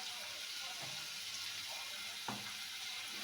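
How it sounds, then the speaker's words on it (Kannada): Radish pieces frying in oil in a pan for radish lentil sambar, a steady close sizzle with a couple of soft stirring knocks, no talking. "ಚೆನ್ನಾಗಿ ಆಯಿಲಲ್ಲಿ ಫ್ರೈ ಆಗಲಿ."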